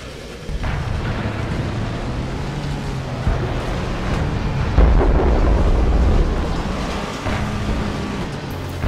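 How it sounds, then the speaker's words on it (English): ELC AMX light tank in World of Tanks fitted with a rally car engine sound, a steady loud low engine drone and rumble running throughout with rising revs and no talking. "Of course ELC did not actually have a rally car engine, but it is still a rally car engine sound."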